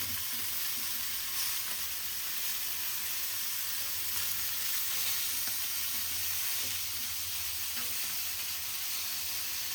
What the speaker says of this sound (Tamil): மீனும் நல்லா வெந்துடுச்சு. அம்மா திருப்பி திருப்பி போடுறாங்க.